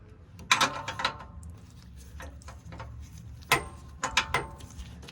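A ratchet tightens an O2 sensor on a Tahoe using an O2 sensor tool, giving short clusters of close, crisp clicking separated by quiet gaps.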